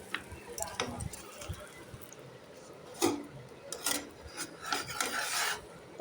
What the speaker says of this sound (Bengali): একদিকটা সেকা হয়ে গেলে আরেক দিকটা ভালো করে উল্টে দেবো।